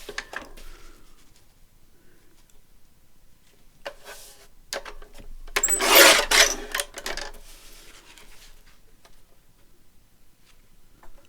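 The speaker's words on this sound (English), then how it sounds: "This is great, this big trimmer, I love it." A large paper trimmer slices through paper at a craft table, a brief burst of crisp cutting and rasping blade noise rising to a peak mid-clip, with softer clicks and handling sounds before and after.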